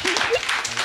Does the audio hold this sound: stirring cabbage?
no